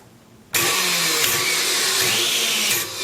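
A powerful Vitamix blender, an SUX 9000 with a 2-horsepower motor, starts abruptly and runs at a loud, steady roar for a few seconds before easing off, with no talking.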